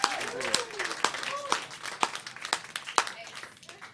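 Audience applause for a stand-up comedian at a variety show, scattered claps with sharp individual hits and some crinkly texture, fairly close and moderately loud, fading toward the end.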